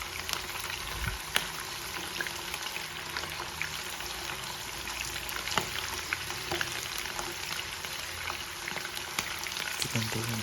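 Chicken fries in a pan with a constant, close crackling sizzle, broken by occasional sharp pops and stirring clicks, and no voices.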